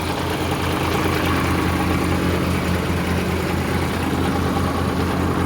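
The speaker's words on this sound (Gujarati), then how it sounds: "આપણું ટ્રેક્ટર પ્રીત 955 ટ્રેક્ટર ચાલે છે, જે 1100 RPM ઉપર એકદમ ફ્રી લોડ ફ્રી ચાલે છે" A Preet 955 tractor engine runs steadily with no load at about 1100 RPM, a continuous close, loud low-pitched idle rumble with an even throb and no change in speed.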